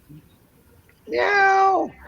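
A person imitates a cat with one drawn-out meow, rising then falling and heard close and clear after a brief quiet moment.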